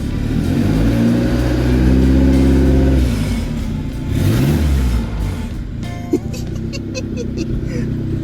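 A turbocharged Honda Civic engine revs hard several times, rising and falling in pitch, with people talking over it and a brief clunk near the end.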